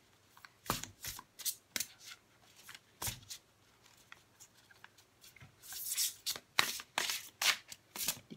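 A thick, large, stiff deck of cards is shuffled unevenly, with scattered slaps and then a busier burst of rustling and flicking near the end.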